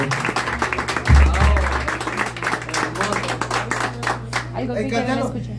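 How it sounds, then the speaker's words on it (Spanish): Applause at a birthday party with a youth mariachi band, a mix of clapping and cheering voices over a steady low hum, fairly close and lively, with people talking and calling out throughout. "Un aplauso bonito."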